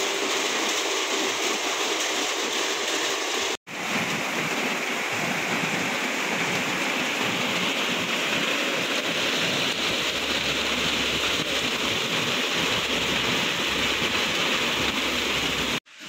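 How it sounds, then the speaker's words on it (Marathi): Heavy rain pours down in a dense, continuous roar with a brief sharp break early on, loud and close throughout. "हे बघा, आणखी पाऊस वाढलाच"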